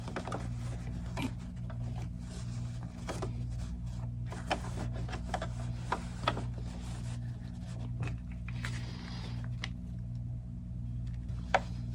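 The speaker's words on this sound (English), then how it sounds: "I'm going to feed this down around the throat of my machine" Home sewing machine stitching an 18-inch doll T-shirt with elastic fed under the presser foot, a steady low mechanical hum with a regular rapid needle rhythm and occasional light clicks, fairly quiet and close.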